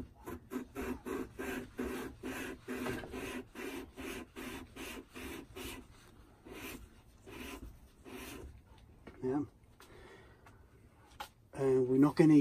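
Grinding paste rasping as a Yanmar SD 50 cone is lapped in its seat, a steady run of rhythmic back-and-forth scrapes that slows and thins out, with someone talking nearby between strokes.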